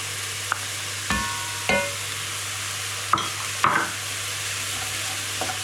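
Crushed garlic dropped into a pan of frying bacon, a steady sizzle broken by a few sharp stirring scrapes, close and alone as the base for a wild greens soup is cooked.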